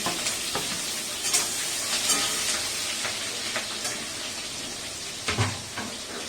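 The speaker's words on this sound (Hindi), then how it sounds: "ये देने के बाद मैं इसमें प्याज और हरी मिर्च डाल देती हूँ।" Onions and green chillies sizzle loudly in hot oil in a pan, a steady close frying hiss. A spoon scrapes and stirs through it at intervals, with no voices over it.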